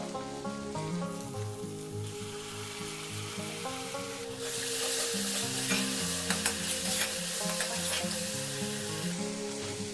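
Paste of ground onion, cashew and green chili fries with cumin and coriander powder in a pan, a steady close sizzle that swells louder halfway through as it is stirred, with spoon scrapes and no talking.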